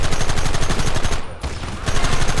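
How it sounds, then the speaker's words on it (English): Rapid gunfire from Red Dead Redemption on PS5 rattles loud and close, a near-continuous burst of shots that dips briefly around the middle before resuming at full intensity. "Fire at will!"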